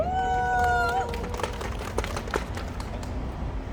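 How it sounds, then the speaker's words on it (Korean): Applause from a small crowd at an outdoor press conference in front of Seoul City Hall, welcoming a speaker; a brief voice opens, then scattered, moderately close clapping carries on steadily. "박수로 맞아주시기 바랍니다"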